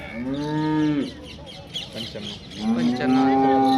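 A white-tailed German-breed cow at a cattle market moos twice nearby, loud drawn-out calls separated by a short pause filled with faint background noise.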